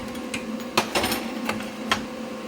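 A Vulcan MigMax 215 MIG welder, running with shielding gas, buzzes and crackles steadily, broken by a few sharper pops, close and fairly quiet with no talking.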